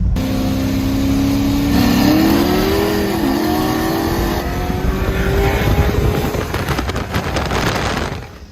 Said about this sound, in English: 2002 Subaru WRX wagon with the 5-speed manual